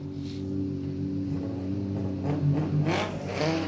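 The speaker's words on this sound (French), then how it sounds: "on va vous laisser profiter du son de la Porsche" A Porsche rally car on the start line of a rally shakedown, its engine revving loudly and close with steady harmonic drone and rising surges toward the end, no talk over it.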